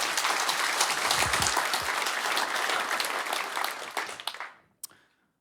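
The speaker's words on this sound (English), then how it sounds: "Warm applause for him." Conference audience gives warm applause after a product update talk, dense sustained clapping that thins out and stops, followed by a single late clap.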